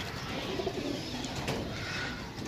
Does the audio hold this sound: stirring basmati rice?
no